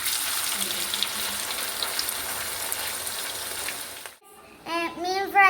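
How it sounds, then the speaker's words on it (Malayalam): Pieces of fish sizzle steadily in hot oil in a pan for a Kerala fish pickle, a loud constant hiss that stops suddenly before a voice begins speaking. "മീൻ ഫ്രൈ ചെയ്യുകയാണ്."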